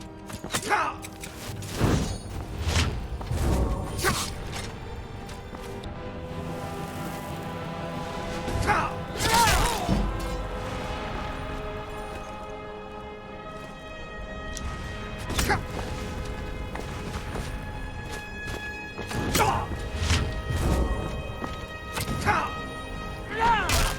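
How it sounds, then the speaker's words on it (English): Explosions in the video game Skyrim: several heavy booming crashes at irregular intervals, loud and sharp, over a steady musical game background. "That's where those explosions were coming from."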